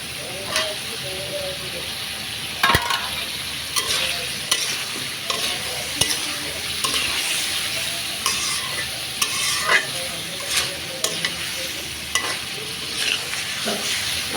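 Pointed gourd and potatoes stirred and sautéed in an oiled pan for a fish curry, steady sizzling throughout with frequent sharp clanks and scrapes of a spatula against the metal.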